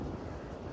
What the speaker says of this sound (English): It is properly windy right now.